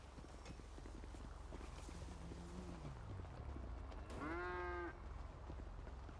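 A cow in the GTA RP video game gives a low, wavering moo followed by a louder, higher bellow, heard faintly over steady game background noise.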